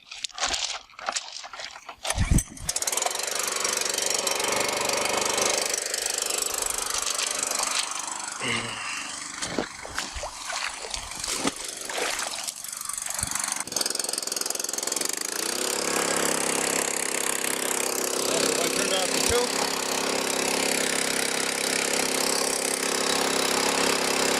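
A new Honda WB20XT water pump's small engine being pulled to start, a few sputtering attempts, then catching into a loud, steady, continuous running roar close by that fills the rest of the clip.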